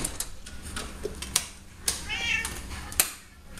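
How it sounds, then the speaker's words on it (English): A cat meows once, a short mid-pitched cry rising over background clatter and knocks, with faint talk nearby. "Oh, I forgot to let my cat in."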